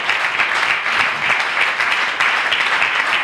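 A church congregation applauds, sustained loud clapping from many hands with a steady rhythm and no pauses.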